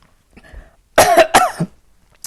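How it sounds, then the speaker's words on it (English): A couple of harsh, close coughs in quick succession after a faint murmur, then quiet. "It's harder to hold back the cough when you feel it coming"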